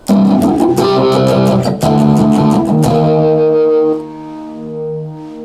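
Loud distorted electric guitar through an ESI Neva Uno audio interface connected to a phone strums and picks with a swirling phaser effect, then a sustained chord fades out with a sweeping wash.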